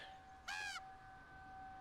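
A single short caw from a crow, sharp and fairly close, breaks an otherwise quiet background with a faint steady hum.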